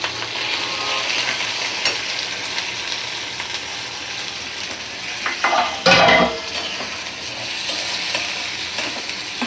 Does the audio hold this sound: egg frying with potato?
yes